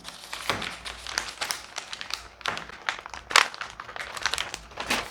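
Paper pattern for a women's bodice block being handled and cut at the armhole, with steady crinkling and rustling bursts and sharp snips close up, no talking.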